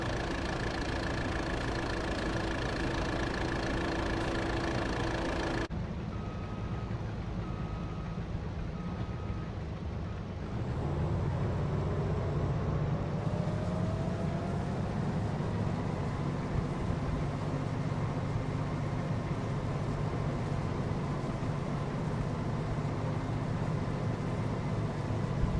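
A combine harvester's engine runs steadily through a barley harvest in extreme heat, a continuous low mechanical drone that shifts and grows louder partway through, with no talking.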